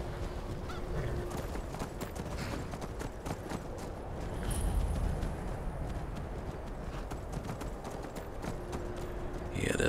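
Horse hooves clip-clop steadily on a path in the Skyrim video game, a continuous mid-level trotting rhythm with faint ambient game sounds and no speech over it.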